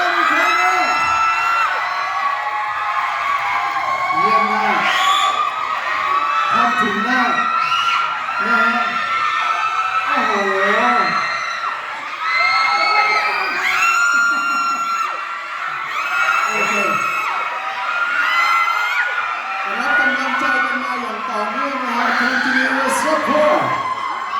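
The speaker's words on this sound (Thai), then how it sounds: "ขอเสียงกรี๊ดดังๆ" A crowd screaming and cheering continuously, with high-pitched shrieks and whoops overlapping in a loud, sustained roar.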